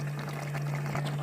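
Water from a glass poured into a pot of Bengali dumpa curry on the stove, a short steady pouring stream heard alone at close range.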